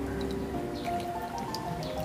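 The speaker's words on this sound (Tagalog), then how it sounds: "Lagyan na natin ng gata." Coconut milk (gata) pours into dry ingredients, a soft steady trickling and dribbling of liquid, faint and close with no voices.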